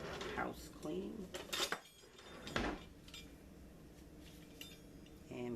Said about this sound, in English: And pizza is cut across.